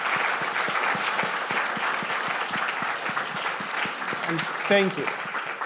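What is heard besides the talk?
audience applause for alumni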